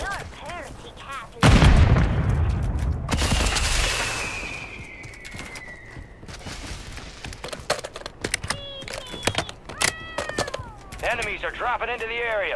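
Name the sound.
party cat meowing in Call of Duty Warzone III video game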